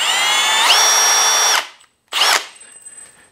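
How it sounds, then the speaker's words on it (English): A Festool T18+3 cordless drill drives a screw in two bursts: a smooth, rising whir that holds for about a second and a half, a brief pause, then a shorter second spin that winds down quickly. "It's just a smooth running drill, right?"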